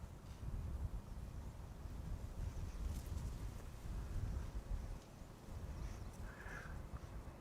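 Wind blows at Amsterdam Schiphol Airport, buffeting the microphone with steady low rumbling gusts, fairly faint overall and with no voices.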